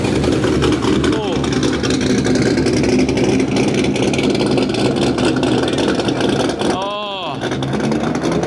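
A Dodge Challenger Scat Pack with an LS V8 engine revs at a car meet. The engine roars loud and close in rising surges over a crowd, and people talk and exclaim nearby.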